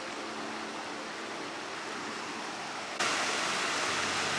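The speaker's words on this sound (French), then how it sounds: "on marche pour aller voir une deuxième cascade" A waterfall in Bali, reached on foot, roars as a steady broadband rush that swells louder for the last second or so, with no voices over it.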